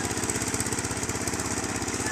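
A power tiller engine working a village field runs close and loud with a fast, steady thumping chug and no break.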